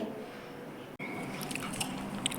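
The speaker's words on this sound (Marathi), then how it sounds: "मी आता पेरू खाते" Someone biting into a piece of freshly cut guava, a single soft crunch followed by quiet, moist chewing, close and faint with no talking.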